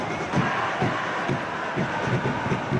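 Stadium crowd at a football match in the video game PES 2025 gives off a steady, dense roar of cheering and murmur, swelling slightly in places and holding throughout without clear speech.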